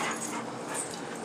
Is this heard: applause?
no